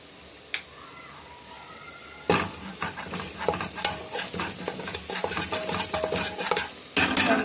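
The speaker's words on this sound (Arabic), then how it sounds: "تقليبه محترمه كده" Onions with pepper, cumin and paprika are stirred in a hot frying pan for bessara, a soft sizzle broken by scraping utensil strokes and clatter that grow busier after a quiet start.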